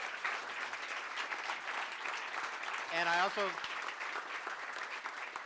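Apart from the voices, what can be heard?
audience applauding panel of mayors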